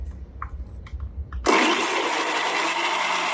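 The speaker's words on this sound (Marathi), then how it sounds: "आता हे मिक्सरमध्ये एकत्र याची प्युरी तयार करूयात" After a few quiet handling knocks, a kitchen mixer switches on abruptly and grinds onion, tomato, garlic and soaked chillies into a puree with no water added, a loud, steady whirring roar.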